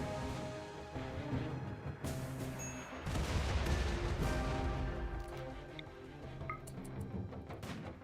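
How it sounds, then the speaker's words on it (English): A triple rocket launcher fires in RimWorld during a raid, letting out a loud cluster of explosive blasts about three seconds in, surrounded by steady crackling gunfire and combat noise. "There goes a triple rocket launcher."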